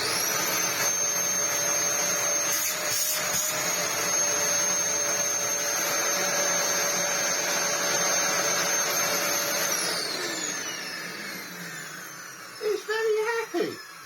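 A Dyson DC07 upright vacuum cleaner runs with its bin removed, a loud steady whine and roar that winds down near the end, followed by a few short knocks.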